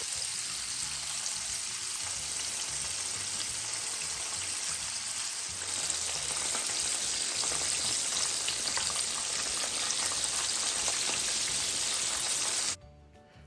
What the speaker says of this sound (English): fry them for like 5 minutes on each side